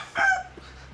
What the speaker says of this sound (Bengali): দেখুন পাহাড়ি মুরগির ডাক, কত কড়া ডাক।